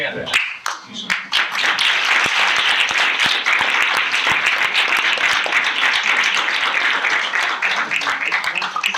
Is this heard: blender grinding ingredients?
no